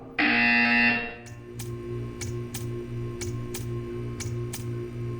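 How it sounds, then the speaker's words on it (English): A harsh electronic buzzer in the video game Portal 2 sounds loudly for about a second, then gives way to a steady mechanical hum with faint, regularly spaced ticks. "You will hear a buzzer."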